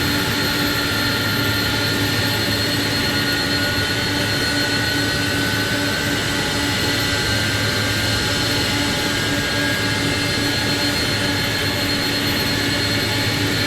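A simulated Airbus A300-600 jet engine spooling up in Microsoft Flight Simulator, giving a loud, steady whine and roar with a high tonal hum that persists throughout, with no voices.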